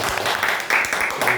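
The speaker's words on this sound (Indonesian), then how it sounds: "Tepuk tangan dong." A crowd at a gathering applauds for a group leader, a thick, continuous wash of clapping that stays loud from start to end and swells briefly midway.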